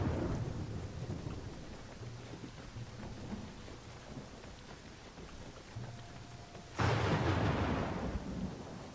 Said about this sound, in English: Hey, it's raining. Lightning.